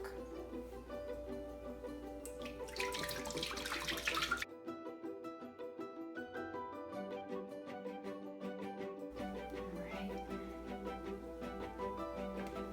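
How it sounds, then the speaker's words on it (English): A whole gallon of low-fat milk pours into a slow cooker, a quiet continuous glugging, splashing stream with a brief louder gush partway through, heard close up with no talking. "I'm going to go ahead and add in a whole gallon of low-fat milk."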